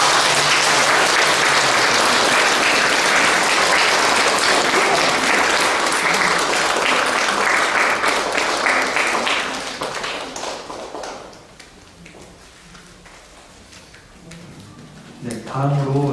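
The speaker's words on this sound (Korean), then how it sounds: "박수 부탁드리겠습니다." A crowd applauds loudly and steadily for about ten seconds at a church Mass, then the clapping fades to scattered taps and quiet.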